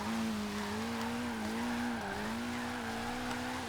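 A Ford Focus RS drifts in the racing game Forza Horizon 3, its tires squealing in a long loud sustained wail that wavers slightly in pitch over a steady engine roar.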